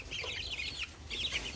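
Aztec miniature bantam chicks clucking and peeping in short high chirpy bursts, close by, with a brief pause midway and no talking.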